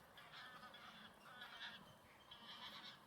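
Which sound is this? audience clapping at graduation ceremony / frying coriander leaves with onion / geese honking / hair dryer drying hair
geese honking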